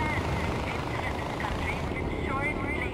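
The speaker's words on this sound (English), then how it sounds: "God, I love that helicopter. It's so fucking sweet." A helicopter in the video game Far Cry 4 gives off a steady whirring drone throughout, under faint game sounds and a voice.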